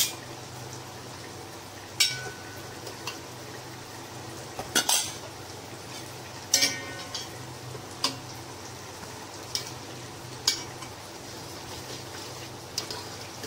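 Metal utensils clink against a pot several times while 80% boiled potatoes are lifted out for a Kolkata restaurant-style aloo dum biryani, with sharp scattered clatters over a quiet kitchen background.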